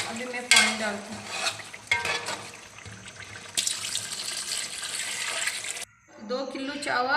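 Water splashes into a pot of fried chicken for pulao in several pours, rushing and gurgling over the hot contents, with brief pauses and a quiet gap before a final pour.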